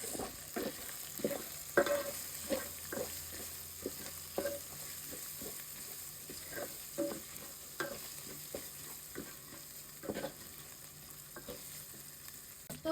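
Green chillies fry in hot oil for yakhni biryani while a spatula stirs them, giving a steady sizzle broken by frequent scraping strokes against the pan. The sound is close and fairly quiet.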